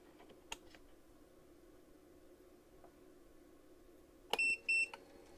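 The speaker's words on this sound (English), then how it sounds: "The light will pulse purple and I'll hear 2 beeps." Air Still Pro distiller switching into pot still mode, giving two short electronic confirmation beeps in quick succession near the end after a quiet stretch with a few faint clicks.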